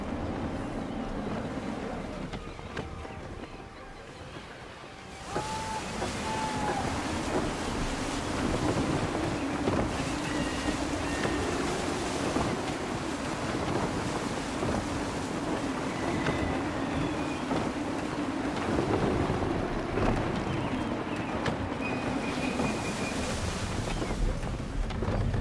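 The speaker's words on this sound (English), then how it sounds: "Gusty winds can be difficult to manage." Steady gusty wind roars over open water while a ship sails in Assassin's Creed 3, the broad rushing noise filling the scene with a faint bit of voice.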